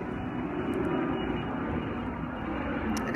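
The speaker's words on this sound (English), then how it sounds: "of course a plane wants to come" An airplane passes overhead outdoors, a steady broad roar of engine noise filling the whole stretch at fairly high level with no speech over it.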